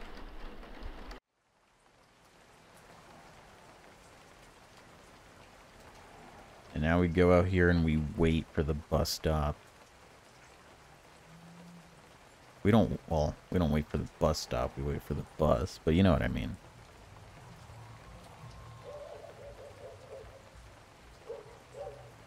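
Rain falls steadily in the video game VHS Slaughter, a soft continuous hiss that stops briefly near the start and then carries on under someone talking in two stretches.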